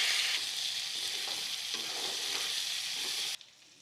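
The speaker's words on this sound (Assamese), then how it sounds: "পাৰ মাংসখিনি এতিয়া ভাজি ল'ম।" Pigeon meat frying in a pan with cumin, banana flower, tomato and onion, giving a continuous close sizzle that cuts off abruptly just before the end, with no talking.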